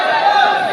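A packed gym crowd roars during the deciding game 3 of a local match between Team Toledo and Team Guadalupe, a dense, loud, steady wall of cheering voices with no single speaker standing out.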